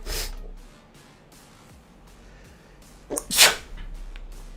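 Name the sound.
sneeze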